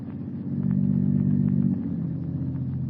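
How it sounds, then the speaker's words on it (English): A motor car engine purrs in an old-time radio drama, a steady low rumble that swells slightly then settles, running close and alone without voices. "The unearthly silence is broken only by the purr of a motor car."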